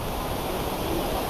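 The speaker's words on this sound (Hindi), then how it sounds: "और यहाँ पर है उफनती नदी" A swollen mountain river rushes past near a temple and bathing pool along the Haldwani to Badrinath route, making a loud, steady roar of water with no pauses.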